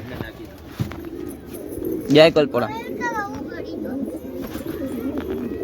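Pigeons coo in a rooftop pigeon loft, a soft rolling coo rising briefly over the ambient noise, with someone talking nearby.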